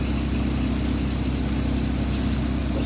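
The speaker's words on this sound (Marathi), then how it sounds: "मशीन आता फिरवायला चालू केलेलं आहे." A tractor-mounted mini combo thresher runs at a steady pace, giving a loud, unbroken engine drone with a dense mechanical roar that holds even throughout.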